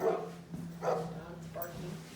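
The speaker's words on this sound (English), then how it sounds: "It's barking." A dog barks a few times in short, rough bursts with a low steady hum behind it.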